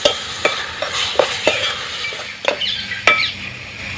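Onion with ginger-garlic paste fries in a pan, a soft steady sizzle punctuated by repeated spatula clinks and scrapes against the metal.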